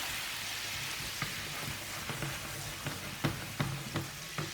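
Balsamic vinegar and sherry sauce with a little pork reducing slowly in a pan, a steady soft sizzle and bubbling with occasional small pops and ticks.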